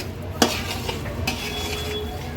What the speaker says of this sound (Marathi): आता व्यवस्थित हा शिरा परत आपण भाजून घेऊया